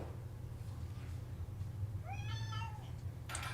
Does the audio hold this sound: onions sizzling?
no